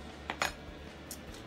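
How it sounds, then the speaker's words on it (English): Metal cutlery being cleaned, with a few light clinks and clanks close by over a quiet background. "Sorry for all the clanking, I'm just cleaning off all my cutlery"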